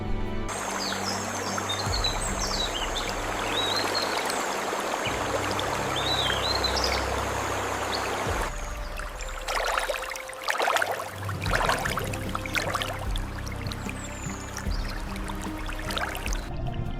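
Clear water runs steadily through a rainforest stream, a constant close rushing wash with a brief change in flow midway and faint birds chirping in the background.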